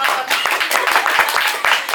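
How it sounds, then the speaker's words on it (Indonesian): An audience claps at a talk, with distinct individual hand claps standing out in a loud, fairly close round of applause that carries on steadily and evenly with no voices. "Tepuk tangan dulu dong yang di belakang."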